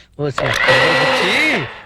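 A kitchen mixer grinder in a domestic movie scene starts up and whirs loudly and steadily for about two seconds, with a voice speaking over it.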